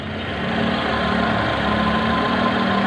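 A Mitsubishi Lancer's 4G13 engine idles after a home carburetor repair, a steady, even, close-up rumbling hum with no misfires or voices.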